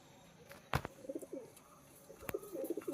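Rampuri Kalanch and Teddy cross-breed pigeons coo softly and close by, a few low bubbling coos among sharp knocks and small scuffing sounds in a quiet room.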